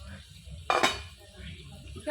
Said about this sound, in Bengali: এখন আমি ঢাকাটা খুলবো